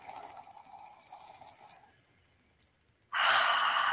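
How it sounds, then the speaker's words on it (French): One person draws a slow, deep breath in during a guided spring ritual meditation, soft and close, followed by a sudden louder airy rush near the end. "On inspire"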